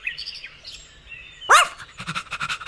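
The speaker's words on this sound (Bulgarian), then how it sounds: "Куче." A brown pet dog gives one sharp, close bark partway through, with bird-like chirps before it and a quick run of pulsing calls after.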